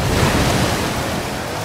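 In the racing game Forza Horizon 4, a car splashes through a big puddle with a loud, continuous rush of spray lasting the whole short moment.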